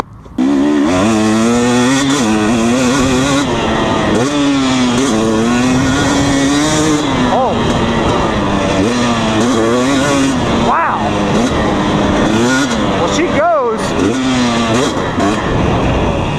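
A 2020 KTM 250 SX dirt bike engine revs hard and continuously during a ride, its pitch rising and falling through throttle blips and gear changes, including a shift into third, loud and close throughout.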